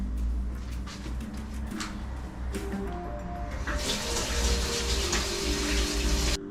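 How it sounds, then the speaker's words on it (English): Hands being washed under a running kitchen tap after cracking eggs, a close, steady stream of water that swells into a brighter, fuller splash partway through, with no voices. "So you want to make sure you wash your hands after you crack the egg."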